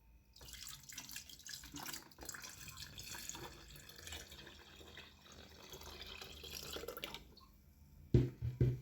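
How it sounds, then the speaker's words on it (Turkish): Water poured into a homemade plum vinegar mixture, a steady splashing pour that runs for about seven seconds, then a few louder knocks and clunks near the end. "Şimdi suyunu ilave ediyorum."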